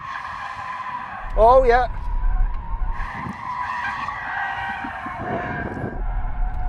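Tyres of a heavy V12 luxury saloon, a BMW 760Li or Maybach, squealing and skidding on a track, a loud wavering screech followed by rough scrubbing and engine noise, with a brief remark from a man.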